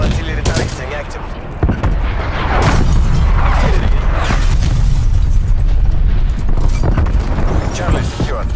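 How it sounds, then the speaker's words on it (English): Artillery strike explosions in the video game Call of Duty Cold War rumble heavily and continuously, with booms and gunfire layered loud and dense throughout, while in-game voices speak over the barrage. "Hostile artillery targeting active."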